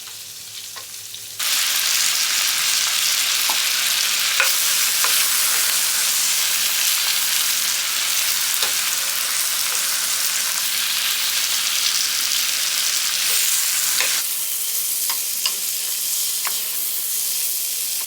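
Onions fry over medium heat for a pork and potato stew, a loud, even sizzle that erupts suddenly and holds steady, with occasional scrapes and taps from continuous stirring, easing slightly near the end.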